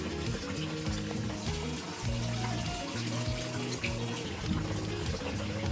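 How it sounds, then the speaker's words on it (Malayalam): Water draining out of an opened washing machine during a leak repair, a steady close gushing and trickling flow that continues without a break under a constant low hum. "ഇപ്പോൾ നമ്മൾ ഓപ്പൺ ചെയ്തപ്പോൾ ഇതിലുള്ള വെള്ളം ഒഴുകി പോകുന്നതായിട്ട് കാണാം."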